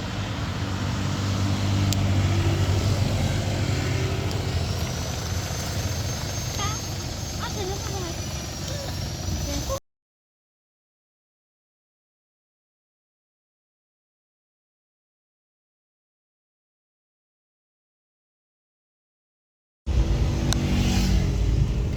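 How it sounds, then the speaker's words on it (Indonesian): An old car's engine runs with a steady, low rumble, cut by a long stretch of complete silence before the idle returns. "Mobil tua belakang sini."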